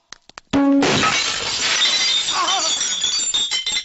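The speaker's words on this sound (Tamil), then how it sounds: "வாசப்படி நினைச்சு கண்ணாடி நொறுக்கி தள்ளிட்டாங்களே" Glass smashes with a sudden loud crash after a few light taps, then scattered shards tinkle and skitter for several seconds, close and clear with no talk.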